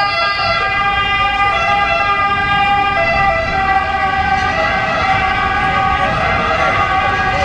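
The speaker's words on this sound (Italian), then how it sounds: "l'ambulanza va in aiuto a qualcuno" An ambulance siren wails loud and close, its repeating two-tone sweep sustained throughout, with traffic rumble beneath during an outdoor political rally in Mazzarino.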